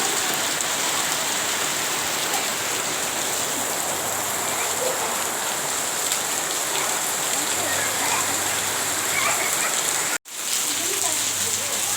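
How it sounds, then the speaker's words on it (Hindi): Heavy morning rain in Himachal pours steadily in a dense, constant hiss, loud and close, with a brief dropout near the end. "देखिए कितनी ज़्यादा बारिश हो रही थी।"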